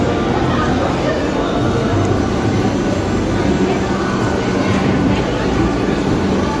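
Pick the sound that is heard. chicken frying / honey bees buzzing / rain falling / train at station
train at station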